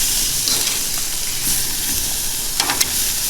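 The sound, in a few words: sous vide steaks sizzling in pan after being flipped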